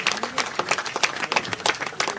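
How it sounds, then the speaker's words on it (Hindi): A crowd at a farmers' victory day rally in Jaipur applauds steadily, dense overlapping claps filling the whole stretch at a moderate, even loudness. "तालियां से, गड़गड़ाहट से लगना चाहिए"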